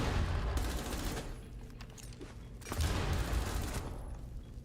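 Automatic rifle fire in a tactical shooter game, two loud sustained bursts of rapid shots separated by a brief lull, sounding close and dense with no talk over it.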